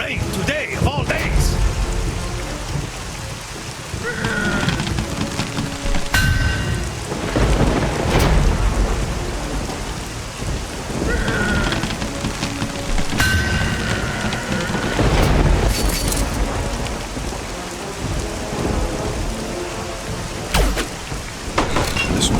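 Heavy rain pours in a medieval-style video game battle scene, with rolling thunder rumbling repeatedly throughout, loud and close, while voices speak intermittently over the storm.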